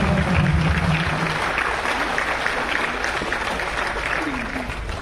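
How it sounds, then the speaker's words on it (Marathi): A theatre audience at a Marathi film's first-day show claps as guests come on stage, a dense steady burst of applause that eases off slightly, with voices mixed in. "टाळ्या वाजवा."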